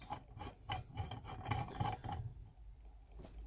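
A La Sorrentina Atomic style coffee maker is screwed together by hand, giving a series of short metallic rasping and rubbing scrapes at close range, then a brief quiet pause.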